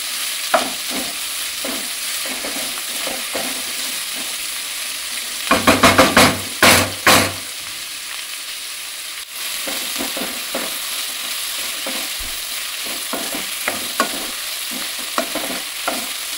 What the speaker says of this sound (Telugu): హై ఫ్లేమ్లో పెట్టి ఒక 5 minutes ఇట్లనే కలుపుకుంటా కుక్ చేసుకోవాలి